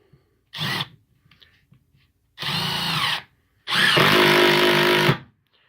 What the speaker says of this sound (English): I've got a driver here, and I'm just going to screw this cleat to the rail.